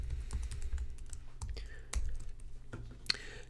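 Rapid clicking of a computer keyboard as a spreadsheet formula is typed in, quick close keystrokes in short bursts over a soft background hum.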